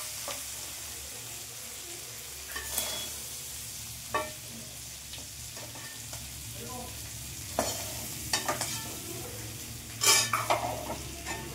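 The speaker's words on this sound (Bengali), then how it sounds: "এটা কিন্তু হালকা করেই ভেজে নিতে হবে" Pond snails frying in oil in a pan, a soft steady sizzle broken by several sharp scrapes and clinks of a spatula stirring against the metal, close and fairly quiet.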